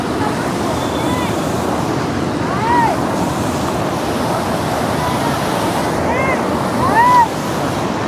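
Water and waves wash steadily at a Saryu river ghat where people are bathing, a constant splashing roar close by, with faint voices and brief tonal calls rising over it.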